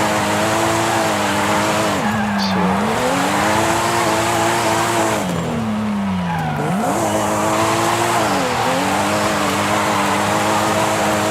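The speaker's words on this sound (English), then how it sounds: "It's really hard to maintain the drift." In the Forza Horizon racing game, a drifting car's engine revs steadily under repeated tire squeals that rise and fall in long sweeps, loud and continuous with no talk.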